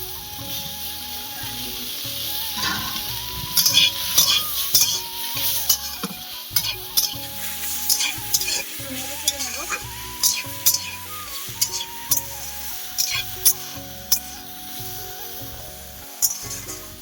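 Taro is stir-fried in a pan, giving repeated scraping stirs and bursts of sizzling under a light melodic musical backing, with the stir strokes coming in a fairly regular rhythm.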